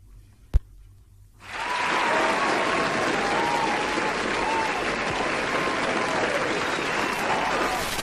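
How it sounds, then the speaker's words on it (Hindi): After a quiet start with a brief click, loud applause bursts in and continues steadily, a dense wash of many hands clapping together that holds at full level to the end. "हम सिर्फ आपके लिए ताली बजा सकते हैं जी।"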